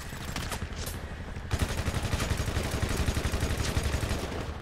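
Machine gun fire in GTA V, a short lull with faint shots giving way to a sudden sustained rapid burst of loud automatic gunfire that continues to the end.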